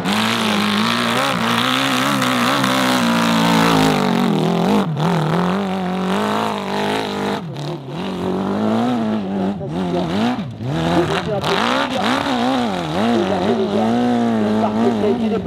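A prototype motorcycle engine labours loudly and continuously on a steep hill climb, its rough revving rising and falling in surges throughout, with a faint voice under it at times.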